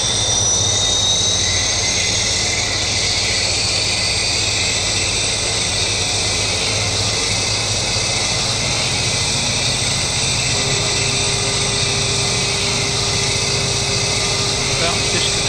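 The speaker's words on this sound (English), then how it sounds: "Starting engine number 2. Start valve open, engine 2. Rotation." Engine number 2 of a Jetstream 41 turboprop spooling up during start in a flight simulator, a loud steady whine with a rising high tone and low rumble throughout, no pauses.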